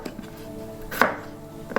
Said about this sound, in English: Cut each half into quarters.